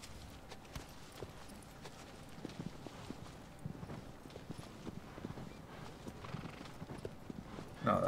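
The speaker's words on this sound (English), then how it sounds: "get on the horse" Horse hooves clip-clop in a steady rhythm across the ground in an adventure video game, moderately close but fairly quiet, with a faint snort or whinny and a brief louder burst at the end.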